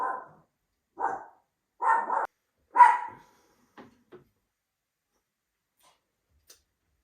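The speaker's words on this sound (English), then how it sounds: "I think Nixon's done barking" A dog barks about four times at roughly one-second intervals, fairly close, followed by a couple of softer huffs and then quiet.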